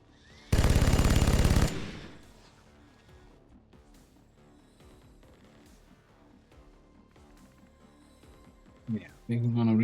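A single loud, sustained burst of weapon fire in XCOM 2 Long War of the Chosen, about a second long, followed by quiet background game sounds and a couple of short sharp hits at the end.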